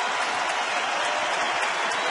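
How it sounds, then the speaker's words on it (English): A baseball crowd at a Rockies–Twins game in Minneapolis on its feet, applauding in a steady, dense wash of clapping and cheering that holds evenly throughout, loud and continuous with no talk over it. "Crowd on its feet."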